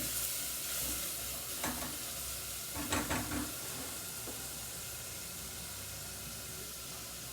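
Garlic sizzles steadily in a hot pan with a constant frying hiss, broken by a few brief stirring scrapes in the first half before the sizzle carries on alone.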